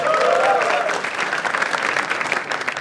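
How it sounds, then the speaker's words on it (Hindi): An audience at a comedy show applauds comic Jaspreet Singh, a dense, steady wash of clapping that stays loud for about three seconds, with a brief voice or cheer ringing over the start. "एक बार जोरदार ताली for Jaspreet Singh also"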